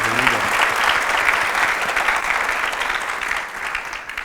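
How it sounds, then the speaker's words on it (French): A room of young university students applauds together, giving a dense, even wash of clapping that holds steady before easing slightly near the end. "Vous allez vous applaudir s'il vous plaît."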